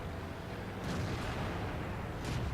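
Tank cannon fire in the World of Tanks video game from a T29, heard as quiet, muffled booms over a constant battle rumble.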